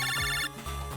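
A short electronic phone ring from the video game Mega Man Battle Network 5, a bright chiming ringtone burst with a second pulse, heard alone and clear.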